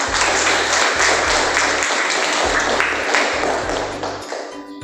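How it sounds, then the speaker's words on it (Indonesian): Steady applause from a room of students after a group presentation in a university class, a dense, continuous wash of clapping that holds for several seconds before tapering slightly at the end. "Kita beri aplaus dulu untuk"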